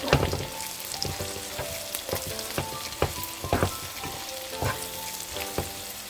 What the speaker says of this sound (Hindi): So now it's time to add mushrooms. ये मैंने बाइट साइज़ के काट लिए हैं, ये थोड़ा सा सौते करेंगे।